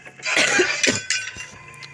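A couple of harsh, close coughs in quick succession, followed by a quieter one, with faint clinking in the background.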